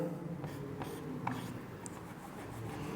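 Pen or chalk strokes during a physics lesson on torque on an electric dipole, a few quiet scratching strokes spaced apart over a faint background, with no talking heard.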